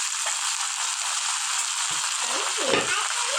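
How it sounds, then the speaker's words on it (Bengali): Ground cumin, ginger, coriander and chilli pastes stirred in a pan for a catfish curry, a steady soft sizzle with a few scraping stirs near the end, no talk. "ভালোভাবে নাড়াচাড়া করে দিচ্ছি"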